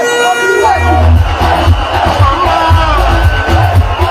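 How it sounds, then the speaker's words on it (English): A dense crowd roars and cheers loudly as Bobi Wine arrives at a presidential campaign rally in Uganda. Whoops and horn-like blasts ride over continuous crowd noise. "As Bobi Wine arrives, so goes the crowd."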